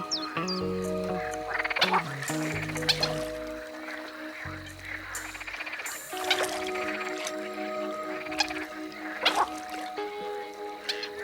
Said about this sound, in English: Wherever you look, the water's surface is heaving with frogs.